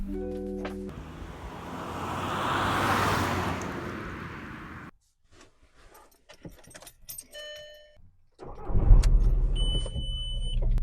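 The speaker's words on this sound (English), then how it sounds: "So I turned on the tractor-powered Polo to take it for a drive" A diesel VW Polo, fitted with a tractor engine, runs with a broad steady rumble that swells and fades; after a quieter gap with small clicks and jingling, the engine starts again loud and close.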